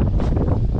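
Strong seaside wind buffeting the microphone on a Croatian coast, a dense, loud roar with rumbling gusts and a hint of waves behind it, continuous and close with no voices.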